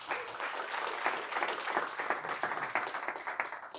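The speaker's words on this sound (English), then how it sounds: "Give them applause." An audience claps steadily for a few seconds at a booth gathering, a dense, continuous round of applause filling the room with no speech over it.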